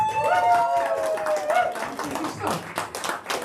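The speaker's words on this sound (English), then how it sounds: "Give these guys one more big round of applause, ladies and gentlemen" Audience clapping at a hypnosis stage show, a dense burst of applause that tapers over a few seconds, with a voice speaking over the start.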